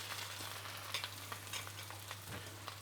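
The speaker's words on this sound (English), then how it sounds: "On this spinach, just a touch of butter to the pan" Spinach frying in a touch of butter in a hot pan, a steady close sizzle with soft crackles and occasional stirring scrapes, no talk over it.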